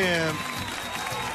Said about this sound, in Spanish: quiero que sientas el aplauso de todo nuestro equipo, nuestro estudio